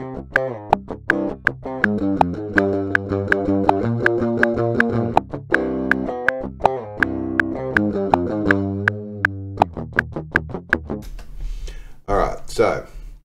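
A heavily distorted electric guitar chugs out palm-muted riffs and sustained power chords in a steady rhythm, loud and dry, ending with a short burst of speech.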